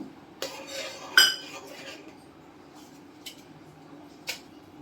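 Milk mixture for malai kulfi stirred in a pan over low heat, with a spoon clinking and scraping against metal in a few sharp, close strikes amid quiet rustling.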